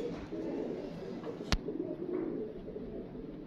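Pigeons bred as pairs give soft, low cooing in a quiet setting, with one sharp click near the middle. The sound is faint and close, with no one talking over it.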